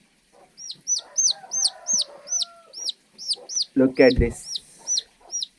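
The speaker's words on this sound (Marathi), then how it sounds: "हे बघा, हे असतंय कोंबडीचं पिल्लू." An eight-day-old chick gives a steady series of high, evenly spaced peeps while a hen clucks lower underneath, close by; someone speaks briefly midway.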